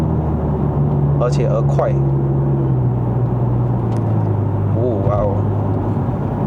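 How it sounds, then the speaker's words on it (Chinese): A Mercedes-Benz C180 AMG Line (W205) with a 9G-Tronic automatic gearbox drives on a Malaysian road. Its steady cabin engine drone drops in pitch partway through as the transmission shifts up, and someone talks over it. "这个 9G Tronic 的换挡哦，很顺丝滑"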